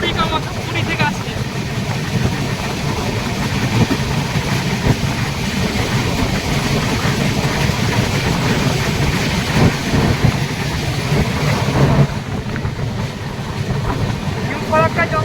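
The Kamakhya–LTT Karmabhoomi Express runs at speed, giving a loud, steady rumble and rattle from inside the coach, with a voice talking throughout.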